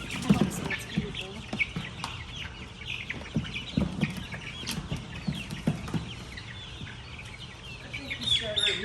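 Leghorn copper brown and copper maroon mixed chickens give soft clucks and scattered peeps close by while people chat over them, the calls rising and falling in short irregular bursts.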